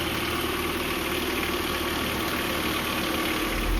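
A Nissan D21 pickup truck engine idles close by with a steady hum and a faint, rapid mechanical tapping from the top end, an even running sound with no voices.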